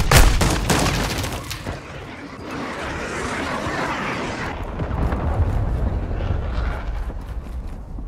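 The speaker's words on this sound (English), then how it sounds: "Friendly cruise missile approaching sight." Cruise missile blasts in Call of Duty Modern Warfare 2 multiplayer: a sharp burst of rapid detonations opens, then a heavy, rolling roar of explosions rumbles on and swells again before easing off.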